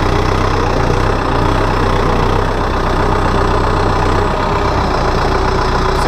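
A 2014 Kubota M7040 tractor's diesel engine runs steadily at a low, even rumble, loud and close. It holds a constant idle-like drone throughout, with no speech.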